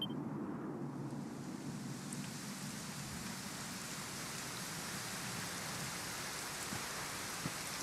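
Steady rain pouring in the video game Dragon Quest XI, a dense continuous hiss of falling drops with a faint low rumble beneath, even and unbroken throughout.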